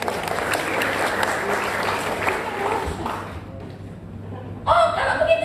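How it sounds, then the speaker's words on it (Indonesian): Congregation applause during a church service sermon, a moderate spread of clapping that fades after a few seconds, followed by a brief burst of other noise at the end. "Tepuk tangan sudah."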